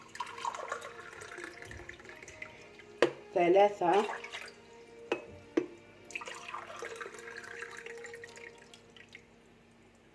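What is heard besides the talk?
water poured from glasses onto sugar for syrup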